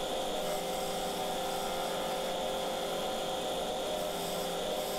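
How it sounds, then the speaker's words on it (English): A woodturning lathe hums steadily while a tool hollows out a sycamore bowl, giving a continuous whirring drone with a rough scraping hiss layered over it, even and moderately loud throughout, with no voices. "always the fun bit, we're on to the hollowing"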